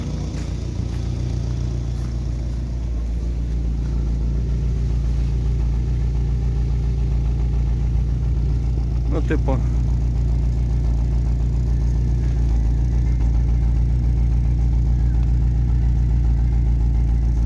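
A 2005 Daewoo Lanos SE T150 engine idles with a steady low rumble and exhaust drone, unbroken throughout; someone speaks a few brief words partway through.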